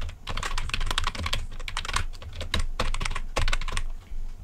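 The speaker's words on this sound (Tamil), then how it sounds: "இப்போ நான் டைப் பண்ணுறேன்." Fast, steady typing on a computer keyboard while entering a Gmail address, with dense bursts of crisp key clicks and brief pauses between runs, close and clear with no talking.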